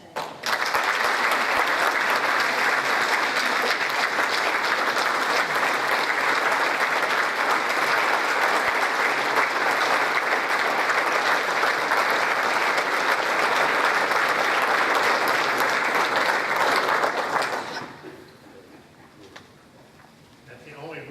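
A crowd gives sustained, loud applause congratulating an honoree at a Boy Scouts of America and Rotary event, dense clapping for about seventeen seconds before cutting off to a quieter room.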